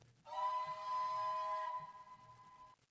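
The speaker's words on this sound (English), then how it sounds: "That just sounds like a high-pitched version of Merlin's whistle" A steam locomotive whistle from a train video game sounds once, a clear, steady multi-tone blast lasting about two and a half seconds before cutting off, with faint background voices.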